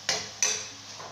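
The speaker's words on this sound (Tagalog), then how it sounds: "Gisa-gisa lang ito, guys." Eggplant and canned tuna being sautéed in a pan for a simple home-cooked dish, heard as two sharp clanks of a utensil against the pan in quick succession, fairly close, with no talking.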